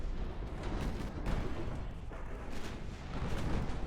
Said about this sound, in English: torpedoes are getting detonated